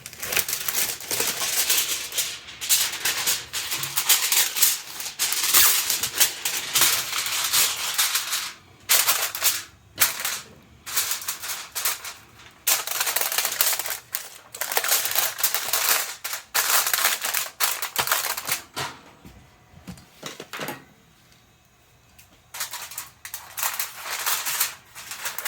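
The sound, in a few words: aluminium foil being crinkled onto Ninja Foodi rack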